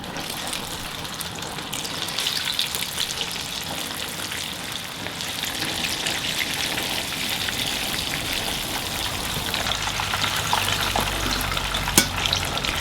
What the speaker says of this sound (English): fry it for about 5 minutes or so, gently stir them so that they fry up evenly